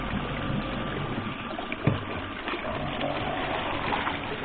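Continuous churning water noise from a pump pushing water through a short hand-drilled well, steady and fairly loud, with a brief clunk near the middle and no talking.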